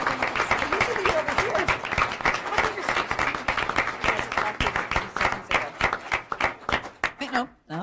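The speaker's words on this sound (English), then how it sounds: "Let's give them a round of applause." Applause breaks out in a board meeting room for honoured guests, a steady patter of many hands clapping at close range for several seconds before fading out, with some voices mixed in.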